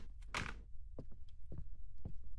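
A painting topples over in a horror video game, a single brief crash-like thud near the start, followed by a few soft, dull knocks spaced out over a quiet background.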